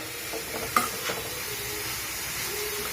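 Cabbage and other vegetables with salt cook in a pan as they are stirred and mixed for a bread sandwich masala filling, giving a soft steady sizzle and one sharp utensil clink early on.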